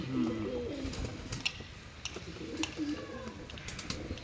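Soft, low pigeon cooing repeats in short phrases over a steady background hum, with a few faint chirps and clicks scattered through.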